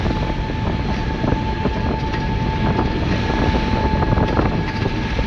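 An 11 m Air Rider custom fishing vessel running at speed, a loud, steady broadband engine and hull roar with wind buffeting the microphone throughout, close and continuous without voices.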